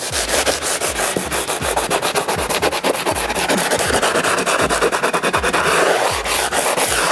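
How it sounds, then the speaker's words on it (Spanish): Brisk back-and-forth sanding strokes with sandpaper on a stone kitchen countertop, a steady rapid rhythm of gritty rubbing on a hard surface, close and continuous with no speech. "vamos a romper un poquito la parte más brillante de la piedra, pasamos la lija"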